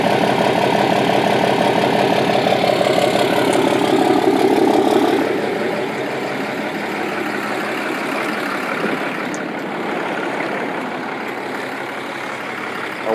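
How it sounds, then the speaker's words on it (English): Ram 2500 diesel pickup with a 4-inch exhaust, 5-inch tip and EGR delete idling nearby, a rough, rhythmic rumbling clatter that is louder at first, then settles into a quieter steady idle. "she sounded pretty good. That's with the 4-inch exhaust all the way back"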